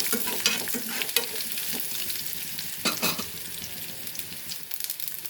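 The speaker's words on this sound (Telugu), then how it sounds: "ఆవాలు చిటపట్టమంటున్నాయి" Mustard seeds, cumin and dried red chillies spluttering in hot oil in a kadai, a dense continuous sizzle broken by sharp popping bursts.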